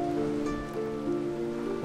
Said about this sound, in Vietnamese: Ôi sao trời mưa gió ghê vãi nồi em ạ